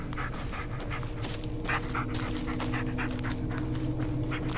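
A dog pants rapidly and steadily in the 2019 video game Blair Witch, the rhythmic breathy huffs close and continuous over a low ambient game hum, with no talking.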